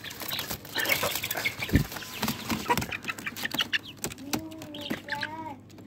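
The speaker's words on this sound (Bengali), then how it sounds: "এই যে দেখেন, খুব সুন্দর মুরগিটা, মোরগটা। এটা ডেকি আছে।" A hill chicken rooster calls among hens, with clucks and rustling early on, then drawn-out crowing notes near the end, moderately close.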